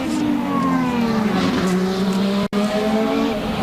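An IndyCar race car loses control at the Long Beach street circuit and spins toward the tire barrier, its loud engine whining and tires squealing in one continuous, sliding howl, with a brief cut in the sound near the end.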